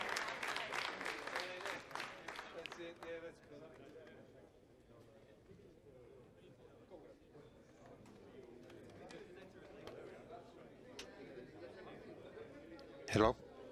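A distant crowd claps and cheers at the Sky Muster and ARSAT satellite launch, strongest in the first few seconds and then fading to a faint murmur beneath a talking voice.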